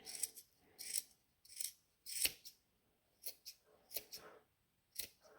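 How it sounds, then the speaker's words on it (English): Sharp scissors trimming the end of a crochet yarn tassel for a piano table runner: a series of quick, close snipping cuts in uneven bursts, fairly quiet, with no talking. "use some really nice sharp scissors, and just try to get it nice and straight at the end here"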